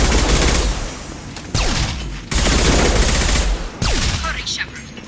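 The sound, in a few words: gunfire in the video game Mass Effect 2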